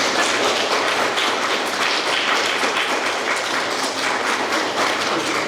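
An audience claps loudly and continuously in a dense, even wash of hands that holds steady from start to finish without pause.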